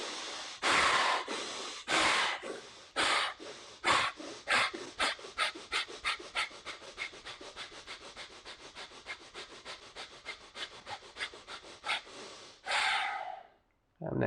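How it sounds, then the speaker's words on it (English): Bellows breath in pranayama: a long run of rapid, forceful nasal breaths, starting with a few heavy strokes and speeding into a fast, even rhythm before ending in a deep sigh-like exhale. "We'll take our third round of bellows breath."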